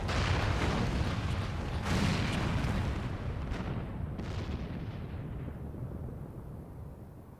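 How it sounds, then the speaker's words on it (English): A great tower collapses amid cannon fire in Final Fantasy XIV Shadowbringers, with heavy booming impacts and a thick roaring rumble that gradually fades to a quieter tail. "The main tower just collapsed."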